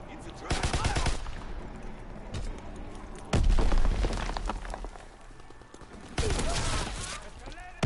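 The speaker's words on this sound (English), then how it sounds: "This grease gun is fucking awesome." A grease gun submachine gun firing in a WW2 shooter game, rapid loud automatic bursts in several separate volleys, mixed with booms and someone talking between them.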